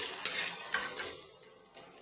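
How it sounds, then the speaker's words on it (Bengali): Soft frying sizzle with a few sharp scraping stirs, fading slightly toward the end before another clink; no voices. "মশলাটা ঢাকা দিয়ে ভাজছিলাম একদম ভাজা হয়ে গেছে তেল ছেড়ে এসছে"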